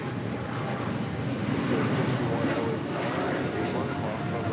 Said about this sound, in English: This is Korean Air Cargo 8274 departing to Seoul on a 777 freighter